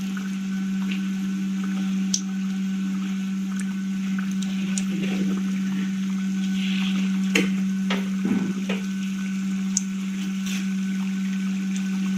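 Fafda, a Gujarati gram-flour snack, frying in hot oil, with a steady continuous sizzle and occasional light clicks and stirring sounds under a constant electrical hum.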